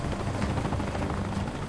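A Chinook helicopter in flight during a military construction airlift, a loud, dense, steady rotor and engine roar filling the whole clip with no pauses and no voices.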